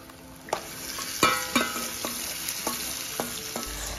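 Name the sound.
onions and local chicken frying and being stirred in pan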